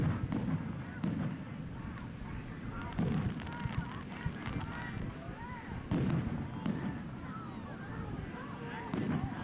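Fireworks burst at night in a steady run of booms and crackles, with heavier blasts near the start and around three and six seconds, while voices murmur in the background.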